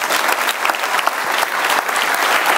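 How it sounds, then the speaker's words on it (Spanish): A church congregation claps together in steady, dense applause that is loud and close and fills the whole moment without a break. "Pido un aplauso para la bondad de Dios."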